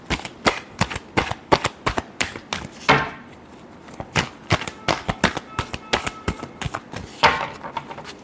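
Tarot cards riffled and shuffled by hand in quick bursts of crisp, close papery slaps and flutters, with short pauses between rounds and no voices.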